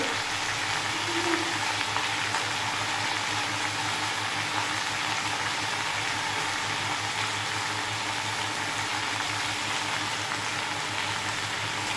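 Tandulja (amaranth greens) vegetable fries in a pan with a steady, loud, continuous sizzle that holds evenly throughout, with no talking.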